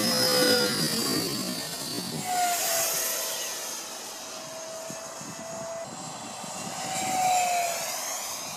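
A BlitzRC 50mm Viper Jet RC model with a 4S Dr. Mad Thrust electric ducted fan screams at full throttle, a steady high-pitched whine that shifts in pitch as it passes, loud and continuous with no talking.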